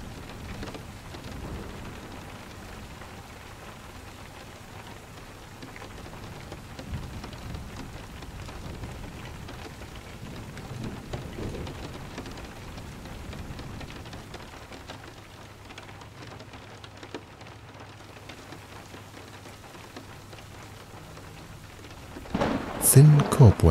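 A long steady rainfall patters softly, with low thunder rumbling in the background, and a loud close thunderclap breaks at the very end; a faint voice can be heard at times.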